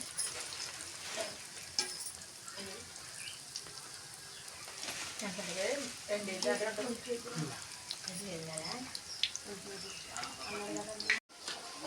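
Purnam burelu, jaggery-filled fritters, frying in hot oil: a steady soft sizzle and bubbling runs throughout, with someone talking over it and a brief stir near the end.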